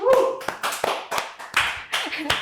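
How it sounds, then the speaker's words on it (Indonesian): Hands clap in a podcast studio: about seven sharp, close claps in an uneven rhythm, with a bit of voice at the start. "Tepuk tangan dulu deh."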